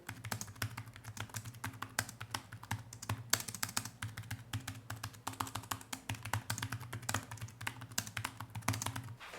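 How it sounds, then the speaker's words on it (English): Soft, rapid typing on a Razer Joro scissor-switch keyboard, light pattering keystrokes continuing steadily over a faint low hum. "Here's the Razer Joro, which is a scissor switch keyboard."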